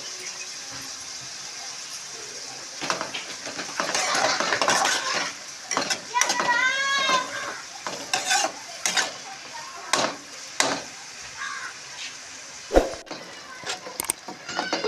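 Onions with salt sautéing in a pan for a cashew mushroom curry, with repeated scraping and clinking of a spoon stirring against the metal over a soft sizzle, close by.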